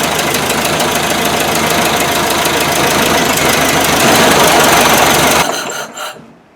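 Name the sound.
old engine running rattly after new timing gear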